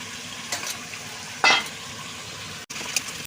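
Potatoes and cauliflower sauté in a spice masala in a pan, for a cauliflower and tangra fish dish. A low, even sizzle runs throughout, broken by a brief scraping stir.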